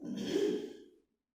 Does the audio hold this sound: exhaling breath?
yes